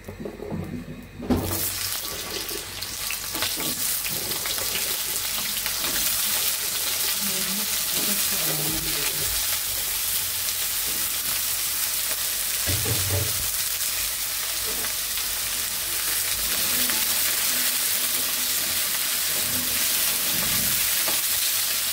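Fish fries in hot oil with onion and taro, a loud, steady, close sizzle that starts abruptly and keeps going, with occasional stirring knocks and faint voices underneath.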